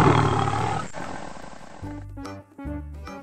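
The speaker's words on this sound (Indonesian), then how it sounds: "Singa." A lion roars loud and close, one long rough roar, then a short bright musical jingle with a brief gap follows.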